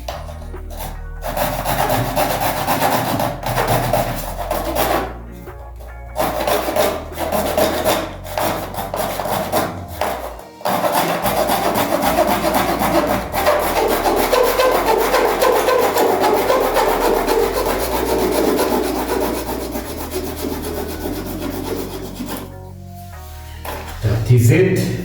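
A piece of hacksaw blade sawing out a shower drain casting, a loud, close, continuous rasping rhythm of rough strokes with brief pauses, and a voice speaking in places.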